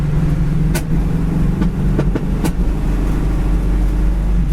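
A 1970 Chevy Camaro cruises down the road with a loud, steady low engine rumble heard from inside the car, with a few brief clicks and knocks and no talking.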